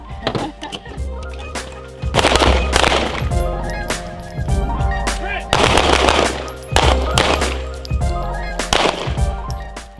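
A fully automatic MP5 submachine gun fitted with a silencer fires in several rapid bursts at an outdoor training range, each volley loud and close, separated by brief pauses.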